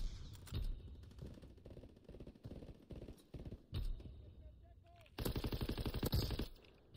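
Gunfire rattles in a Call of Duty WW2 team deathmatch, with rapid bursts and a heavy closing volley amid other game sounds, loud and close, under faint speech.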